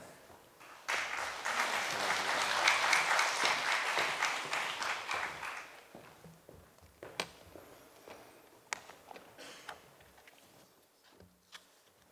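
A church congregation at an early-morning prayer service claps to welcome the pastor, a burst of full applause that thins out into scattered, sparse claps and quiet room sounds.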